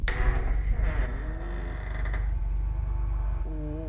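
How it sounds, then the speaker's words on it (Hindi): An old door in a 98-year-old grandmother's house creaks open with wavering, groaning squeaks over a steady low hum, close and moderately loud, with a final squeal near the end. "लास्ट दरवाजा था, ये भी हम लोगों ने ओपन कर लिया है"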